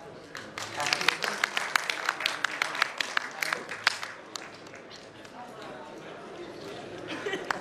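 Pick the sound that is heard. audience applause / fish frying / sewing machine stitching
audience applause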